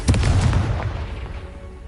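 Confringo fire spell blast in Hogwarts Legacy on PS5, a loud booming explosion with a sharp burst at the start and a rumbling tail that fades over about two seconds.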